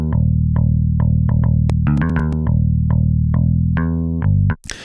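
FL Studio templated bass run through the Sound Goodizer plugin for an 8-string metal guitar tone plays a steady run of sustained, buzzy notes with sharp plucked attacks, loud and close, ending in an abrupt noisy burst.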